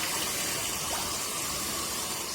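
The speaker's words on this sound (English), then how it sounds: "pour off the water." Water from washed raw chicken soaked in vinegar water is poured off, a steady continuous splashing gush close by with no talking.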